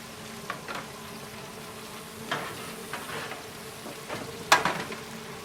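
Battered fish frying in hot oil gives a close, steady hiss broken by scattered crackles and pops, with a few sharper spits near the end.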